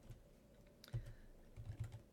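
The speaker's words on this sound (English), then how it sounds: "And when you start typing," Someone types on a computer keyboard, a few quiet bursts of key clicks with gaps between them, close by and with no talking.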